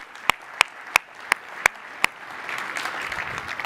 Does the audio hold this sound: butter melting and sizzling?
no